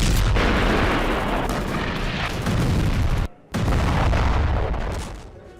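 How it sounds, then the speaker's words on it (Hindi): Rocket fire strikes an IDF military vehicle near Jabalia camp, producing a loud, dense roar of blasts and gunfire-like cracks that runs almost continuously, breaks off for a moment, then resumes and fades at the end. "अल कस्साम ब्रिगेड के लड़ाकों ने रॉकेट दागे।"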